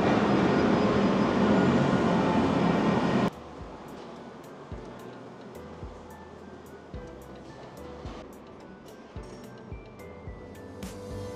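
An LRT-1 light rail train at Redemptorist Station on the Cavite Extension gives a loud, broad rushing roar for about three seconds that cuts off sharply. A quieter hum follows, dotted with scattered clicks and knocks.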